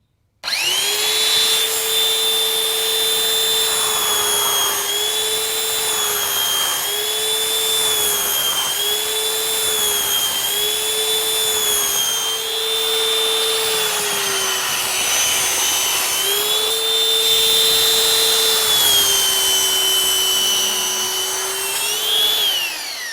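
A handheld power sander runs steadily and loudly for the whole stretch, a constant high whine with slight wavering in pitch, heard alone with no talk.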